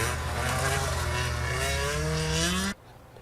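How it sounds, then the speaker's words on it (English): Autocross race cars from a sports car club event near a mall in Rutland, Vermont, roar loudly and steadily up close, the engine pitch climbing with revs before cutting off abruptly near the end. "Drivers and their cars burned rubber around a track, searching for the best time of the day"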